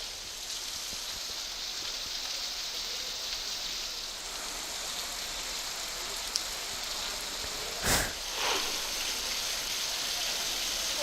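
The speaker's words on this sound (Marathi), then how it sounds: "मुसळधार पाऊस कोसळतोय" Heavy monsoon rain pours steadily in a flooded Alibaug street, a dense, continuous hiss that holds the whole time with one or two brief louder splashes near the end.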